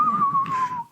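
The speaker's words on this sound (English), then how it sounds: "I hear some whistling" A single sustained whistled tone holds nearly level, sliding slightly downward, clear and fairly loud, with faint background murmur, then fades out at the end.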